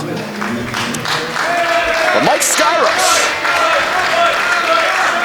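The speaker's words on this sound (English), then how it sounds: "A round of applause from our Pro Wrestling Grind faithful" Pro Wrestling Grind crowd in Florence, MA applauding and cheering after a match, a steady wash of clapping and crowd noise under an announcer's voice.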